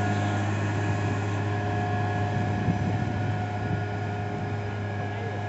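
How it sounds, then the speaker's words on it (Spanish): A tractor engine drone while subsoiling wet ground, with a constant low hum and faint tonal whine, running evenly throughout without pauses. "serenito se escucha el tractor"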